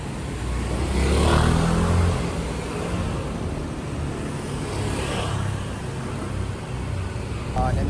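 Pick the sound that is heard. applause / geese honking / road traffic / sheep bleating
road traffic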